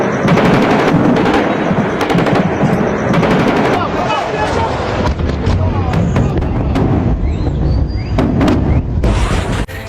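Missile bombardment striking Israel after a large-missile attack from Iran: dense, continuous roar of blasts and crackling detonations, loud and sustained throughout, with scattered sharp bursts and voices mixed underneath.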